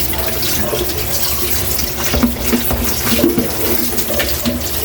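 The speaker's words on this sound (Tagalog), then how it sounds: "hugasan muna natin yung pork" Tap water runs steadily over raw pork being rinsed before marinating for pork salpicao, a constant broadband splash with small clinks and knocks from handling the meat.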